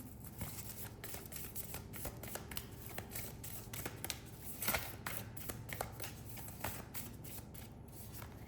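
Tarot cards being shuffled by hand: soft repeated riffles and flicks of card stock, close and fairly quiet, with no talking.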